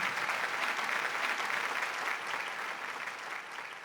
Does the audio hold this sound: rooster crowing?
no